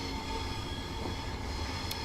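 A Class 444 electric train in the Train Simulator 2017 game, South Western route, rumbling steadily with a low continuous rolling drone and faint wheel noise, no voices.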